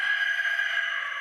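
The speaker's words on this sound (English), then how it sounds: "Shut up, rooster." A rooster crows once, a sustained tonal call that rings out close and alone for about a second.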